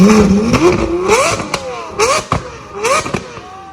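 A Lamborghini Aventador's exhaust blasts out repeated loud pops and bangs between sharp revs, close and harsh, with a few voices reacting underneath.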